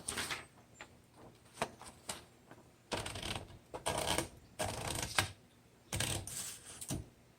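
A vintage 1958 Olympia manual typewriter is typed on in quick bursts of crisp key strikes, separated by short pauses, with mechanical clacks heard close by in a quiet room.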